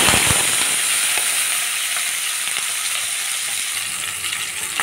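Hot oil sizzling in a heated pan while making a Telugu pachadi seasoning for eggplant chutney, a steady dense hiss with a few crackling pops, close and continuous without talk.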